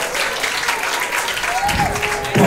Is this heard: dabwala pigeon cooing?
no